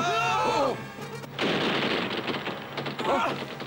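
Ship cannon fire in an animated pirate naval battle, heavy booms and crashing blasts rolling together under shouting voices, loud and close.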